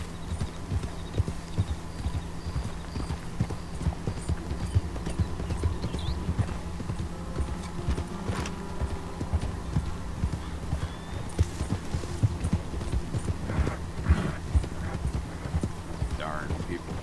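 Steady clip-clop of a horse's hooves in Red Dead Redemption 2, a continuous even rhythm throughout, close and prominent, with someone talking over it at times.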